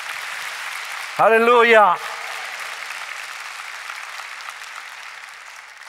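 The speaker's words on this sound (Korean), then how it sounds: "우리 박수 한번 하겠습니다" A Sunday-service congregation in a church claps together. A loud voice briefly shouts over the opening moments, then steady, moderate clapping carries on evenly to the end and fades slightly.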